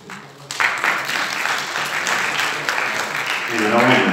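An audience at a short-film screening bursts into applause, a dense clapping that starts suddenly and holds steady, with a voice speaking over it near the end.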